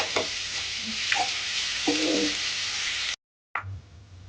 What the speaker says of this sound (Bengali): এবার এটাকে ভেজে নেব। পেঁয়াজটা কিন্তু এই ক্ষেত্রে জাস্ট লাইট ব্রাউন করবে।